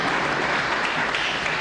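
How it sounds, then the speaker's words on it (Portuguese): Audience at a stand-up comedy show clapping, a brief, dense and even wash of applause, loud and close, with no pause. "O pessoal quer aplaudir, né? Pode aplaudir"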